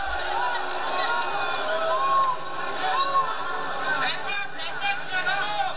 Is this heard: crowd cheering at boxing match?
yes